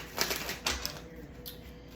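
Crisp papery riffling bursts, a few quick shuffles of tarot cards close by, with short pauses between them in a quiet room.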